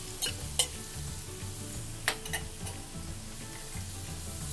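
Chopped green chilli and ginger-garlic paste sauté in hot oil in a pan, a soft continuous sizzle broken by a few sharp scrapes and taps of a stirring spoon against the metal.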